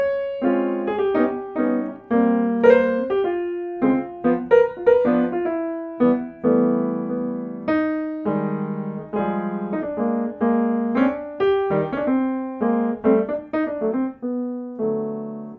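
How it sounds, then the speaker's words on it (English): Jazz piano playing a standard, with a traditional bass-style left hand walking low notes under chordal right-hand voicings. It is steady, continuous and moderately loud for the whole stretch, with no talk. "If I were to play a standard with the traditional bass and drums and left hand setup,"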